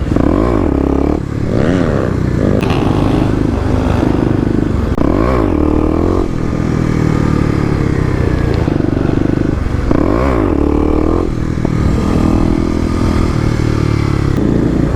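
A Kawasaki KLX250 dirt bike revs hard in second gear while its rider pulls a wheelie, the engine note rising and falling steadily and loudly for the whole stretch with no talk.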